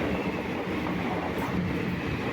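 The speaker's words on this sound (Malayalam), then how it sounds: "ഇത് നമ്മളെ കണ്ണൂർ ജനശതാബ്ദി ക്രോസ് ചെയ്ത് പോയിക്കൊണ്ടിരിക്കുക" The Kannur Jan Shatabdi Express rumbles past close by in Kerala, a steady loud roar of wheels and carriages with faint rattling throughout.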